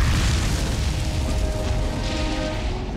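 A tank's main cannon firing during combat on the Golan Heights, a deep, heavy boom with rumbling blast noise that fills the whole clip, loud and close, with no talk.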